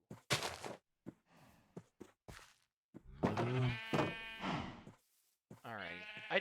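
Sheep in Minecraft bleat several times in short, nasal calls, some separated by brief pauses, with a person talking around them.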